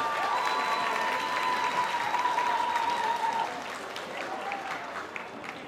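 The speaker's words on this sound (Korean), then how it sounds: "여러분 박수로 맞이해 주시기 바랍니다" Audience applause fills the hall at the bronze-prize presentation of the 17th Chupungnyeong Song Festival awards ceremony: steady, dense clapping from a crowd that eases off partway through. A sustained tone, likely from the sound system, runs beneath.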